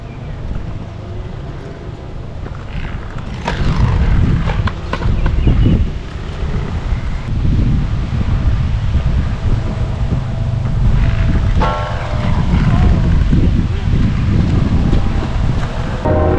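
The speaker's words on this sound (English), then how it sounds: "The wind is terrible." Hard wind buffets the microphone during an outdoor inline skating run down a hill, a steady low roaring rumble with heavier gusts, close and loud throughout.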